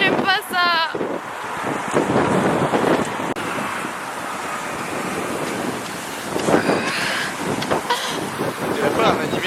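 Strong wind buffets and roars continuously by the sea at Alicante, Spain, with surf rumbling underneath and a voice speaking briefly at the start and middle.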